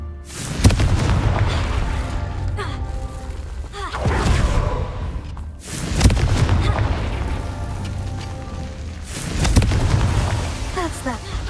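Confringo blasting spells in Hogwarts Legacy detonate as repeated loud booming explosions, four heavy blasts spaced about two to three seconds apart, each with a rumbling decay under dense game noise.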